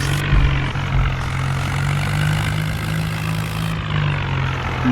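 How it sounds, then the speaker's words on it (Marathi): A John Deere tractor ploughing a field, its engine putting out a steady, loud, low drone that holds evenly without pause from start to finish. "ट्रॅक्टर उचकत इथून जागेवर"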